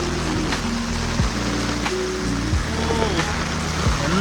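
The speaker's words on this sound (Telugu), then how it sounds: "ఎంత జోరుగా వర్షం ఉంది." Heavy monsoon rain pours down in Casa Rio, Palava, Mumbai, a dense, loud wash that never lets up, with a droning engine-like hum and a few passing tones beneath it.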